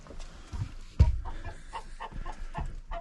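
Chickens cluck in short irregular bursts at close range, with one louder thump or scuffle partway through, around a person feeding them chicken food outdoors.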